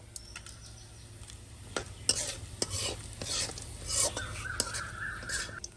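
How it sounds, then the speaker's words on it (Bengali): Whole spices sizzle softly in a kadai for beef haleem, with scattered clinks and scrapes of a utensil stirring, quiet and close. "এখন আমি কড়াই গোটা মশলা দিয়ে দিব"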